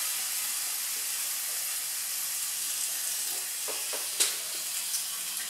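Slices of ham frying in a pan with no oil or butter, cooking in their own fat: a steady, close sizzle and hiss with a few sharper pops and crackles toward the end.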